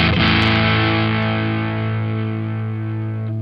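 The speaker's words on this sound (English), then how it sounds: "I'm going to cut the overdrive or the distortion up on the Joyo," Distorted electric guitar chord played through a Joyo British Sound overdrive pedal with the drive turned up, ringing out loud and sustained for about three seconds and slowly decaying.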